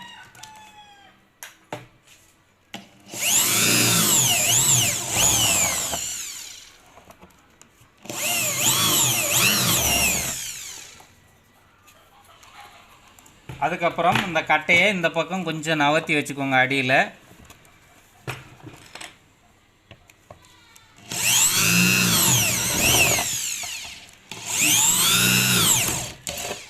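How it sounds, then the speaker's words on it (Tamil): A power drill whines through a wooden board in several long bursts separated by pauses, drilling four holes while building a 5.1 amplifier setup, with a person talking between them. "வச்சுட்டு இப்போ ட்ரில் பண்ணுவோம் 4யுமே"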